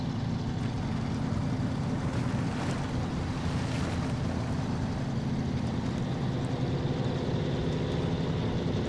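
A truck in the off-road driving game SnowRunner plowing through a water puddle, giving a steady, loud rushing splash and sloshing over a deep low engine rumble, constant throughout with no speech.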